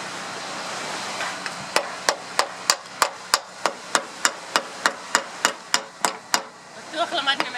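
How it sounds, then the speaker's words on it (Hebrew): Knife chopping into wood outdoors, about fifteen sharp evenly spaced knocks in a steady rhythm, close and loud, with a soft background wash and murmuring voices near the end. "אתם יודעים איך לחתוך את העץ הזה עם הסכין הזה?"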